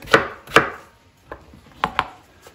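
Onions and potatoes chopped on a board, five sharp knife strikes in two pairs and a lighter single, close and clear with quiet between.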